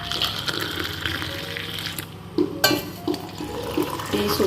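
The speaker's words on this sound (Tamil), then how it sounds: "டீ இப்போ ரெடி, வடிகட்டிட்டு இருக்கோம்." Ginger tea being poured through a strainer in a home kitchen, a steady liquid trickle with small clinks and splashes, moderately loud and close, no voices.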